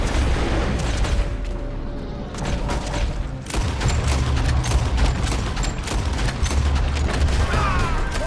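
Gunfire rattles through a shootout in the video game Red Dead Redemption: repeated loud shots and bursts with booming reports, dense and continuous across the clip, with no one speaking over it.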